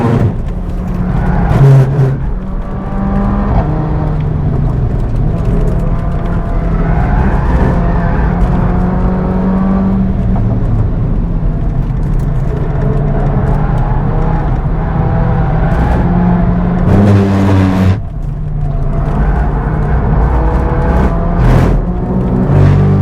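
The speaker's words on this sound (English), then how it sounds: "enjoy the noise of the engine or the exhaust without the electric motor attached to it" Mercedes A45 AMG engine and exhaust on the Nürburgring, a loud, continuous roar with rising and falling revs as the car accelerates and shifts, with a sharp burst near the end.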